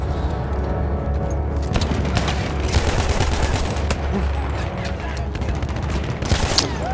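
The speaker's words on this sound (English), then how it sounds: "That seems like the most powerful submachine gun I've ever done seen in my life." Rapid submachine gun fire in Battlefield 1, dense bursts of shots crackling over a constant battlefield rumble, loud and close, with distant explosions and a voice talking over the action.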